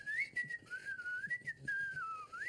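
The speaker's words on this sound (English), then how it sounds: "I don't whistle, but I can whistle better than that." A man whistles a wavering, sliding tune up close, short bending notes running continuously with no talking.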